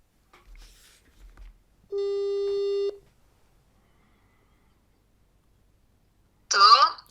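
Telephone call tone: one steady electronic ring lasting about a second, preceded by a couple of faint thumps and followed by silence, then a voice answering close by.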